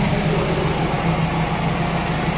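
A Toyota EE100 engine with a non-working vacuum advancer and a new replacement distributor runs at a steady, close, loud idle, its low hum constant and unbroken.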